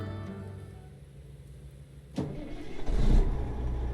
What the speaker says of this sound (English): Let's get this engine fired up.